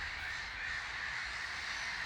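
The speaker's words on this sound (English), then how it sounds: "I'm going to push the microphone towards where the birds are calling at the moment" Crows caw and squabble in a dawn chorus at a lake in Whisby Nature Park, their calls fairly close and continuous over a steady rush of morning wind.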